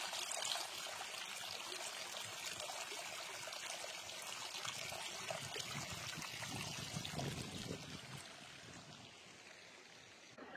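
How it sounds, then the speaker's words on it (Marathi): Water trickles and gurgles continuously from a stone gomukh spout at Kankeshwar temple near Alibaug, a soft steady splashing that fades slightly near the end with no talking. "पाण्याचा खलबलाट."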